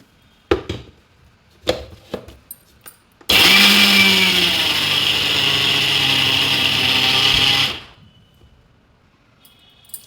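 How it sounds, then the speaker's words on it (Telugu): A few knocks and taps, then a kitchen mixer grinder whirs loudly for about four seconds grinding sesame seeds with salt and cumin into powder, before winding down. Clicks sound afterward; no talking. "ఇలా మెత్తగా మిక్సీ పట్టుకోవాలి"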